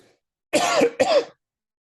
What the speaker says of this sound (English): excuse me, I can't get this cough to go away.